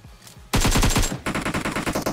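Automatic gunfire in BGMI, a mobile battle royale game, hammers out in rapid, evenly spaced shots: a loud close burst, a brief break, then another rhythmic string of shots.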